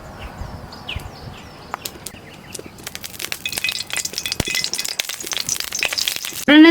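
Mustard oil heats in a kadai for hilsa fish curry. Sparse crackles and sharp pops build gradually, with bird chirps in the background early on, and a sudden louder burst of sizzling comes at the very end.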